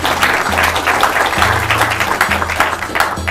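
Steady applause fills a quiz show studio as a contestant from St. Thomas Aquinas SHS is introduced, dense clapping that continues without pause over some faint low background sound.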